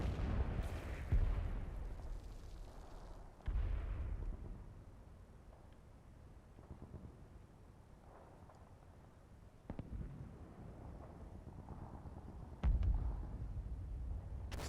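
Enfilade gunfire from a farmhouse in the World War II game Combat Mission: Battle for Normandy, several distant booming shots and bursts scattered over a quiet rumbling battlefield background.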